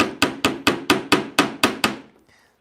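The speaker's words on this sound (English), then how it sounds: "So I'm just going to pound that down." A hammer drives a rivet nail through lapstrake boat planking with nine sharp, evenly spaced blows at close range, then stops and leaves quiet.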